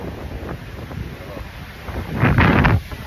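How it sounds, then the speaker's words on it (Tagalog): Wind gusts buffet the microphone on a rocky Ilocos coastline, a steady low rumble that swells into a stronger blast near the end, with faint voices underneath. "Hangin, oh."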